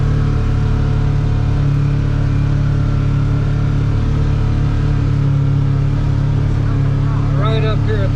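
A Polaris UTV's engine drones steadily at close range while the vehicle picks its way over rocks on a trail, a continuous low rumble with a voice briefly audible near the end.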